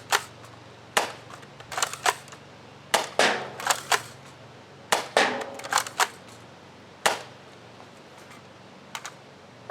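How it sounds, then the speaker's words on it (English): A K26 gun in a first-person shooter game fires a series of sharp, cracking shots in irregular bursts, each loud report ringing briefly with quiet gaps between. "we got 7 rounds in the K26 finisher"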